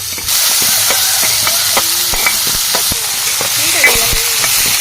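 Green chillies and onions fry in a pan with a steady, loud hiss and sizzle, broken by faint clicks and scrapes of stirring.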